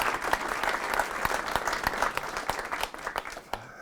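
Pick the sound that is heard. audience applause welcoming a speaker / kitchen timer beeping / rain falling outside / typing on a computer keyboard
audience applause welcoming a speaker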